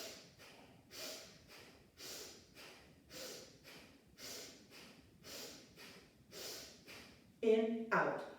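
Repeated forceful nasal exhales and sniffs during a whole-body warm-up breathing exercise, a steady rhythm of about one sharp puff per half second, fairly close, ending with a louder burst.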